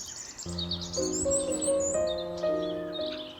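A European robin sings in the wild, high thin warbling phrases over steady tonal notes in the background, with no voices.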